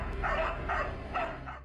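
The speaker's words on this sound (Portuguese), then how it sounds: "um fazendeiro começou a filmar depois que seus cachorros começaram a latir sem parar no meio da vegetação" Dogs barking in vegetation on a farm, a quick run of three or four muffled barks at some distance under a steady noisy backdrop.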